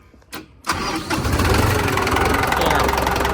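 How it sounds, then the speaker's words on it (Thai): A Kubota M105S 105-horsepower tractor's diesel engine cranks and catches, then settles into a loud, steady rattling idle that runs to the end. "เดี๋ยวฟังเสียงเครื่องหน่อยไหมนะครับ ฟังเสียงเครื่องหน่อยนะครับ"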